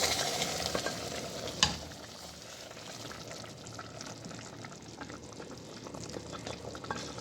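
Pumpkin and chana dal are stirred into masala frying in a pan, with a soft steady sizzle and bubbling, gentle scraping and one sharp knock of the spoon early on.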